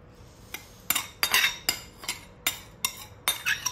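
Rice salad with parsley, coriander, celery and sauce being mixed with a utensil in a bowl, giving a series of sharp clinks and scraping taps in an uneven rhythm, close and fairly quiet.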